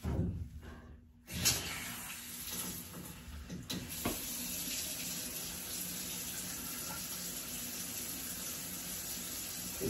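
Water runs from a bathroom faucet in a vanity made from a repurposed dresser, a steady close hiss following a brief gap and a few clunks at the start.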